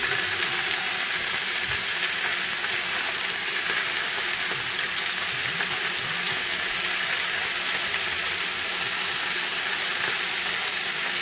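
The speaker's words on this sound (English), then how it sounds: "now I'm just going to brown this. Brown these a little bit. And all I put in here is some olive oil." Oxtails browning in olive oil give off a steady, even sizzling hiss that runs unbroken and fairly loud from start to finish, with no talking over it.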